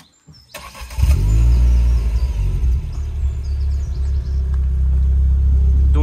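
A Renault Clio 3 RS Cup 2.0 with 203 hp and an exhaust without a valve starts up after a short quiet moment, then settles into a loud, deep, steady idle rumble close by, with no talking.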